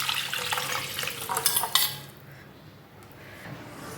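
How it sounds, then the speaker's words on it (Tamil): A spoon scrapes and clinks in a pot as ragi flour is stirred into vegetable soup, a busy clatter for about two seconds before settling into a quiet simmer; no one speaks. "ராகி மாவை சேர்த்து நல்லா கலந்து விடுங்க."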